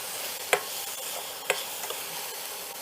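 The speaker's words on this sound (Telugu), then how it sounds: "జస్ట్ పచ్చి వాసన పోయేదాకా ఫ్రై చేసుకుంటున్నాం." Ingredients for ragi idli batter being stir-fried in a pan, a soft continuous sizzle with two distinct sharp clinks of a spatula against the pan, close and alone.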